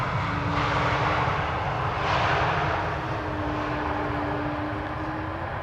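A Transavia airliner arriving from Salzburg sounds as a steady, loud jet engine roar that swells and recedes, with a sustained drone tone throughout and no voices.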